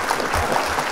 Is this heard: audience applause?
yes